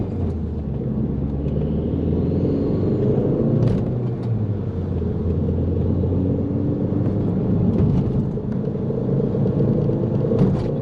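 An Audi TT's turbocharged engine rumbles steadily from inside the car under acceleration on a road test, a continuous loud drone with faint whines rising through the gears.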